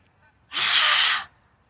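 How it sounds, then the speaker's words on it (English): A goose gives one loud, close honk lasting under a second, standing alone against near silence. "The geese."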